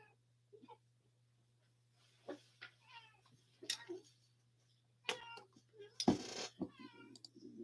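A gray cat meows repeatedly, a string of drawn-out, wailing cries of varying pitch mixed with softer chirps. A steady low hum runs underneath in a quiet room.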